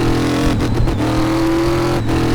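An old rusty truck built into a drag racer in Car Mechanic Simulator 2018, with low-down power and a 5,500 RPM limit. Its engine revs up close and loud, a steady throaty drone broken by brief dips between throttle blips.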